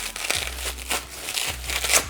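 Crinkling plastic bag being handled nearby, with bursts of rustling and crackling that come and go over a couple of seconds.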